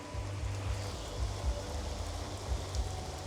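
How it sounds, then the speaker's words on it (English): Rain falls outside in Japan at the edge of a typhoon, a faint, steady hiss of wet patter with low gusty rumbles beneath, with no one talking. "You hear the rain?"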